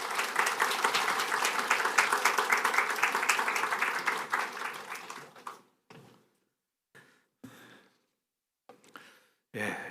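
A church congregation claps in welcome for a visiting pastor and professor during a Sunday worship service, dense applause filling the first five seconds before thinning into scattered claps and then a few isolated bursts.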